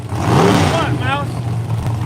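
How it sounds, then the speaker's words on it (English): A 1972 Ford Maverick race car at a drag strip, engine rumbling loudly under a fast-talking announcer voice with crowd-level noise, engine tone rising briefly. "Captain America here getting brought up to the starting line. Once again, a 1972 Ford Maverick."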